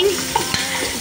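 Garlic and onion sautéing in a pan give a close, steady sizzle and crackle, with a couple of brief scrapes from stirring and no voices.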